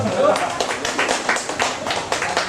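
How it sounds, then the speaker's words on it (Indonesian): Applause and clapping from an audience at a stand-up comedy open mic show in Garut, a short burst of claps under someone speaking. "Tepuk tangan dong buat Anda semua."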